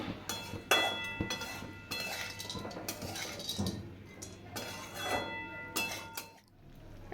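Greens are stirred in a pan with fried lentil dumplings and fried eggplant, with close, irregular scraping and light metallic clinks over a low steady background hum.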